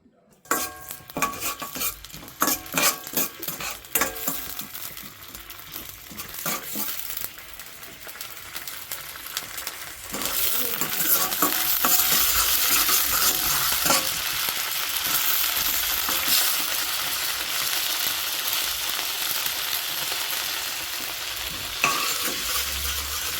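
Spices for a tempering fry in a pan with scattered pops, scrapes and clinks of a stirring utensil at first, then the sizzle swells into a steady, loud hiss that carries on to the end.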